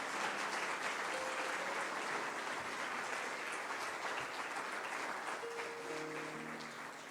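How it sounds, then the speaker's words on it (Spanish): A church congregation claps together in sustained, steady applause offered to God at a Spanish-language service. It is dense and fairly loud throughout, with faint voices and tones running underneath toward the end. "Dale una ofrenda de palmas a Dios."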